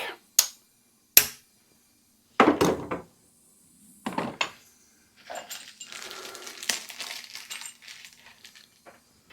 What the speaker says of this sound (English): Apparently a good way of dislodging these valve collets is just to put a socket over the top and give them a little whack.